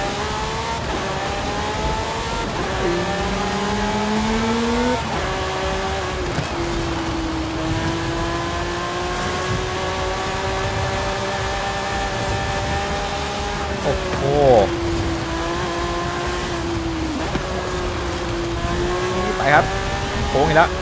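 A Lamborghini Sián Roadster speeds along a wet road in Forza Horizon 5, its engine revving loudly with rising and falling pitch through gear shifts, brief tire squeals, and someone talking over it throughout.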